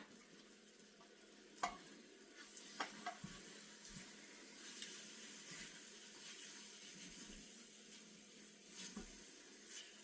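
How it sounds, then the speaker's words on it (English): A spoon stirs a thick mixture for a Mexican tortilla stack in a pot, quiet scraping knocks and soft wet sounds at an irregular pace, faint and close, with no talk. "now I'm just stirring this in"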